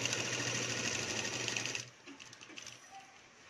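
Sewing machine stitching a lehenga runs in a steady, close whirring burst for about two seconds, then stops, leaving faint handling noises.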